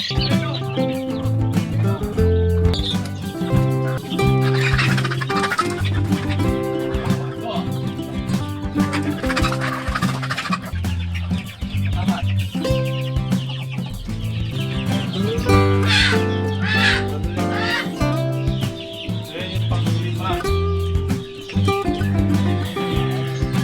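Chickens cluck and squawk continuously and loudly as they are caught and moved into a breeding pen in a rural farmyard, with rooster-like calls and music-like background layered throughout.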